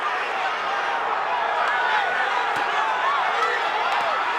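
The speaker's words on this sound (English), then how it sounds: "The crowd going crazy." Arena crowd at a championship boxing fight between Diego Corrales and Jose Luis Castillo roaring loudly and continuously, a dense wall of cheering and shouting with no pauses.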